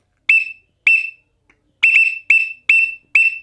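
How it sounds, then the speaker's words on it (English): A teal duck call blown in short, sharp, piercing peeps, six loud bursts in an uneven rhythm separated by silent gaps, heard up close and alone. "But also a teal call."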